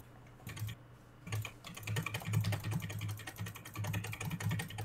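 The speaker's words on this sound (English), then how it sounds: "Your keyboard going like crazy?" Fast, continuous clicking of a computer keyboard, close and moderately quiet, with keystrokes coming in rapid irregular bursts over a low steady hum and no one speaking.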